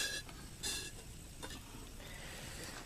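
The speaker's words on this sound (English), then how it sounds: "We got a mighty fine boil there" Water at a rolling boil in a Stanley cooking pot, a faint, steady bubbling hiss with a couple of light clicks near the start.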